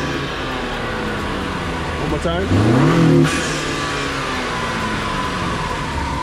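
A 2020 Honda Accord fitted with a Rev9 exhaust revs once, rising sharply and falling back over a steady idle, heard loud and close from the front of the car; a voice speaks just before.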